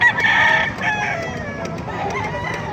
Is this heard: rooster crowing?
yes